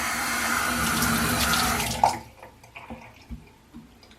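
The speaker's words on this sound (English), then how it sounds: "now I'm going to turn the water back on" Cold water gushes from a newly fitted faucet handle, a loud steady rush that cuts off abruptly halfway, leaving faint trickles and small drips in a quiet room.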